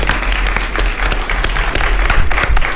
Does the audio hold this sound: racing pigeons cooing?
no